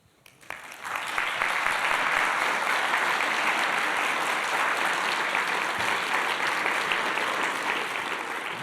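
After a literature lecture by Antoine Compagnon, the hall audience breaks into sustained applause, starting with a few claps then swelling into a steady, dense clapping that holds evenly to the end without voices.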